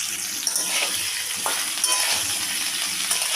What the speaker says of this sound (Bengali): এখন আমি ফুলকপিটাকে ভেজে নেব।